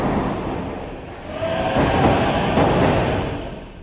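A metro train in Beholder 3 rolls along with a steady rumbling roar, swelling in the middle with faint squeals and clatter before easing off.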